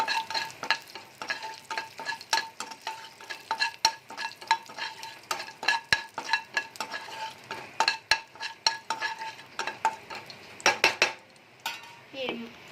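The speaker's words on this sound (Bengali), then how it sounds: "দিয়ে দেব সামান্য জিরে, ভালো করে নেড়ে নেব।" Cumin seeds and whole spices stirred in a hot frying pan: rapid, repeated metal utensil scrapes and clicks against the pan over a light sizzle, close and fairly loud.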